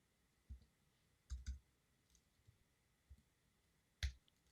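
Keystrokes on a computer keyboard while editing an SSH configuration file in the vi editor on Linux: a handful of sharp, isolated clicks and taps spaced irregularly, fairly quiet, with no talking.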